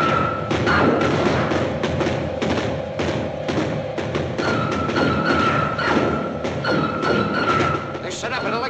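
Artillery guns firing in a 1956 science-fiction film about flying saucers, a steady barrage of loud thumping booms with continuous battle noise over nearly nine seconds, a voice faintly audible underneath.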